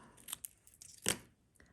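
Scissors snip a paper squirrel's tail while trimming it to fit on a handmade thank-you card: a few short, crisp cuts, the loudest near the middle, close and quiet with no talk.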